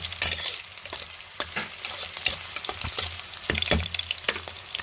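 Egg with beetroot and carrot fries in a pan, a loud continuous sizzle broken by frequent scraping stirs and utensil knocks.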